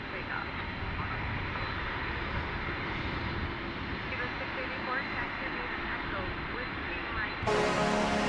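Airliner departing DFW airport bound for Frankfurt, a steady broadband engine roar held throughout, with an abrupt louder, brighter surge near the end as the jet powers up on the runway.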